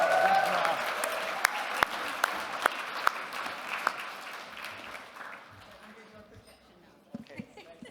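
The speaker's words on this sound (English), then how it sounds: "I think they want one more round of applause." A round of applause from the audience at an Indigenous-led clean energy gathering, a dense clapping crowd nearby with a few sharp individual claps, fading to quiet by the end, with voices heard over it.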